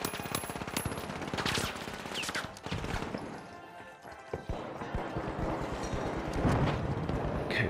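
Gunfire in The Finals cracks in quick, clattering bursts over a busy, noisy match background, with a spread of sharp shots near and farther off.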